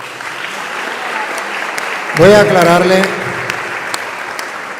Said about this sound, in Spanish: un aplauso para la hermana